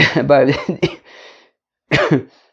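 Speech at the start, followed by a short burst of coughing from a nearby voice, then quiet.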